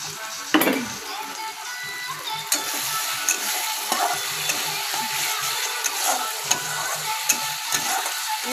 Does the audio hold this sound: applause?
no